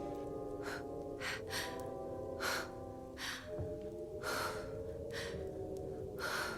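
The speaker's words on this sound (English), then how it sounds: "you're breathing awfully hard" A woman breathes heavily in rhythmic Lamaze-style puffs, about seven loud breaths spaced a second or so apart, over a steady indoor hum.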